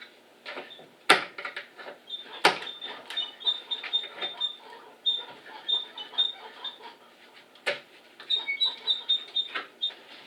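Intermittent metallic creaks and clicks from a stuck, freshly lubricated door latch on a 1972 Chevelle Malibu being worked, with sharp knocks and thin squeaky scraping, fairly close and irregular.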